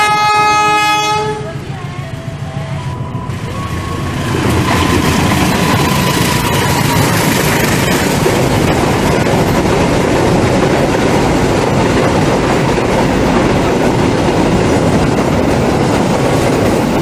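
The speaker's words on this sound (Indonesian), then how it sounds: "Hati-hati jalur 2 melintas langsung kereta api barat." A train horn blares at the start, then a loud, continuous roar and rattle of a train rushing past close by for a long stretch, running straight through a station on track 2 without stopping.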